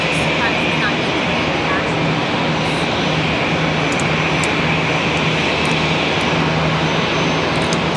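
Etihad airliner departing Charlotte Douglas International for Abu Dhabi, its broad steady jet roar filling the air at length without letup, with some talk nearby.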